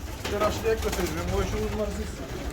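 Pigeons in a loft in Kahramanmaraş, Turkey, give repeated soft, throaty coos that overlap one another over a low background rumble.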